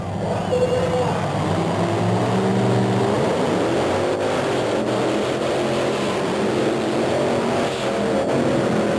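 Monster trucks race side by side at a 1990 event in Myrtle Beach, South Carolina, engines roaring in a continuous loud rumble with rising revs, heard at some distance under a crowd's hum.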